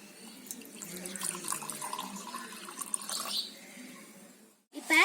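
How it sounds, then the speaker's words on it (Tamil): Water poured from a tumbler into a cooking pot for sweet pongal, a steady splashing pour lasting several seconds before a brief stop and a final splash. "முதல்ல ஒரு டம்ளர் தண்ணி ஊற்றிக்கணும்."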